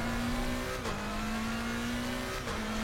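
A McLaren engine in a racing video game holds a steady, loud drone with a brief dip in pitch twice, as if shifting gears, and no voices over it.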